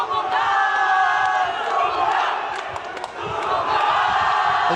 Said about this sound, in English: As you can hear, the crowd is chanting and they're cheering going him on.